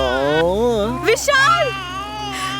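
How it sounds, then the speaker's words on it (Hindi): An infant cries loudly and close by, in wavering wails, while an adult shouts briefly over the crying. "अरे मेरा बच्चा रो रहा है मेरा बच्चा।"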